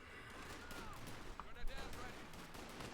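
Rifle gunfire from riflemen in the World War II strategy game Company of Heroes 2 crackles in quick bursts amid a dense battle mix, faint and layered with other combat noise.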